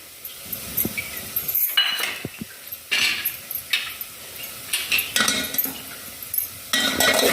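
A utensil scrapes and clinks against a pan while stirring a spiced matar paratha filling of ground peas, salt and kasuri methi frying in oil, with irregular close-up metallic taps and scrapes and no talking.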